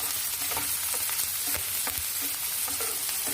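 Chopped onion and garlic frying in a pan for a bottle gourd greens mash: a loud, continuous close sizzle with occasional crackles and stirring taps.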